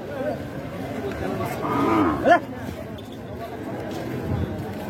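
A native-breed bull moos once at a busy cattle market in Boda, Panchagarh, its call rising over steady crowd chatter and people talking nearby.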